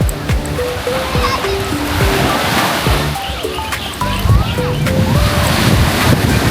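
Waves at Punggai beach in Pengerang, Johor: steady surf washing over the shore under gusty wind noise, with children's voices and chatter in the background throughout.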